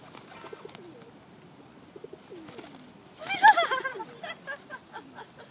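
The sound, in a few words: pigeons cooing in London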